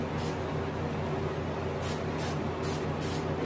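An airbrush sprays black paint onto a reproduction rainbow trout, darkening the cheek. Five short, sharp hisses stand out over a steady low background hum.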